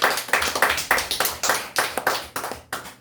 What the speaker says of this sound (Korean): 우리 그 하나님께 영광의 박수를 드립니다